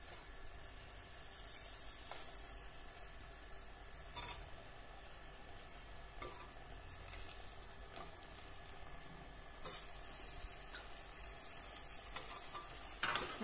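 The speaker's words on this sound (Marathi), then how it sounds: "यामध्ये आपण ही आपली चिरलेली वांगी आहे ती टाकणार आहोत एक एक करून" Chopped eggplant fries in masala in a pan, a continuous close sizzle with occasional clicks and scraping knocks as pieces go in one by one, steady and moderately quiet.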